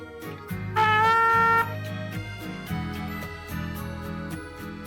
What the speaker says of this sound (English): on a regular full-size trumpet, once you get to C within the staff, which sounds like this